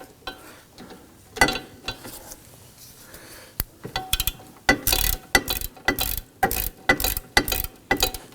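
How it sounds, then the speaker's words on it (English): A torque wrench ratchet tightens the bolts on a wheel hub assembly of a 2005–2009 Subaru Legacy, quiet at first, then bursts of clicking ratchet strokes in a fairly regular rhythm, close and distinct. "Now I want to torque these down to 48 foot-pounds."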